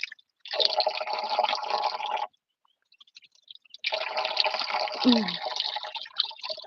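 A stream runs over granite stones, with a close, steady rushing of water in two long stretches separated by a short near-silent pause.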